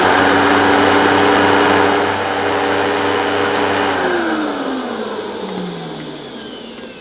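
A Hoover Evo Breeze vacuum cleaner runs loud and steady with a droning motor whine that drops in pitch partway through, as the suction is checked on a sealed suction gauge.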